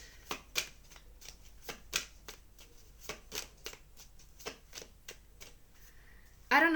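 Tarot cards being shuffled by hand: a steady run of crisp, close riffling and flicking bursts at irregular intervals, ending in one louder, denser burst.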